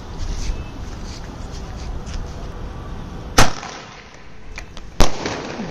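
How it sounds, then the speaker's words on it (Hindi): Panch Avatar sky shot Diwali firecrackers bursting overhead, two sharp cracking pops about one and a half seconds apart over a hissing, crackling background. "ये वाला तो प्रॉपर स्काई शॉट था"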